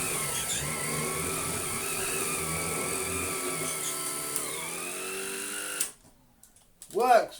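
A custom cordless turbo powerhead runs on a Numatic NBV190 vacuum with a steady whirring motor drone and rising whine, then cuts out abruptly near the end, followed by a brief rustle; someone talks over it.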